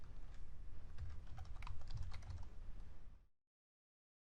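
Fast, continuous typing on a computer keyboard, close and crisp with dense overlapping key clicks for about three seconds before cutting to silence; no voices.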